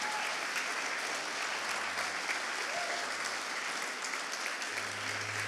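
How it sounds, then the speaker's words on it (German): A large audience applauds the Facts Heroes 2022 at an awards gala, a thick, continuous roar of clapping that holds steady and loud throughout, with no voices over it. "Und der Applaus für die Facts Heroes"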